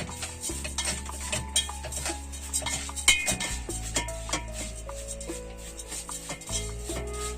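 Vermicelli browning in a pot for a quick Ramadan iftar meal as a utensil stirs it, with repeated metallic clinks and scrapes and a faint sizzle over soft background music.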